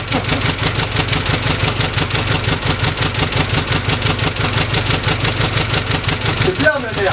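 A motorcycle engine runs after starting, settling into a loud, steady idle with an even pulsing throb close by, then a brief disturbance near the end.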